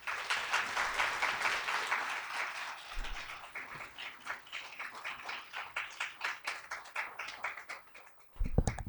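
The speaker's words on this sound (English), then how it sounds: "How about one more round of applause for Deputy Director?" Steady audience applause at a White House Initiative on Asian Americans, Native Hawaiians, and Pacific Islanders summit, a continuous patter of many hands clapping at moderate distance for about eight seconds, ending with a short bump.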